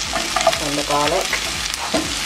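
Onion and garlic frying in a pan for a vegan Jamaican curry: a brief, close burst of sizzling with stirring clatter, fairly loud and uninterrupted by speech.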